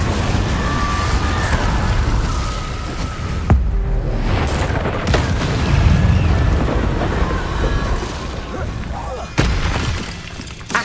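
Incendio fire spell cast in Hogwarts Legacy, a dense burst of booming, whooshing flame noise that keeps going with a brief dip partway through, with a voice and other game sounds mixed in.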